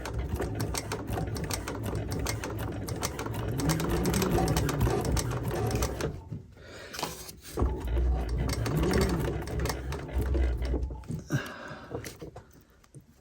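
Sewing machine at its longest stitch length straining through a thick doubled-up rubber strap for a strap wrench rebuild, a loud steady mechanical chatter for about six seconds, then stopping and restarting in shorter uneven bursts.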